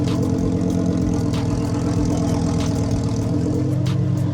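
A supercar built as a rival to the Porsche 911 Dakar idles with a low, steady engine rumble at close range, uninterrupted and without voices.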